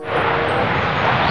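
Toy fighter jet giving off a brief, steady roaring jet-engine whoosh at fairly close range, with no talk over it.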